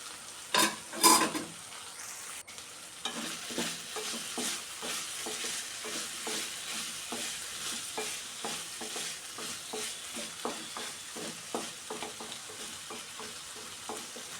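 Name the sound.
stirring elephant foot yam frying in pan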